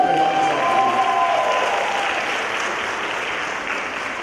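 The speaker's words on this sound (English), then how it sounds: "give a round of applause to Moncasville Middle School" Audience at a school advisory council meeting applauds for a middle school, a dense steady wash of clapping from a crowd that tapers slightly toward the end.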